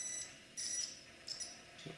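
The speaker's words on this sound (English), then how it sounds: "a painfully weak little beep you hear should tell me if I have connection between 2 points" A cheap electrical continuity tester gives weak, thin high beeps, two or three short tones separated by pauses, faint and alone.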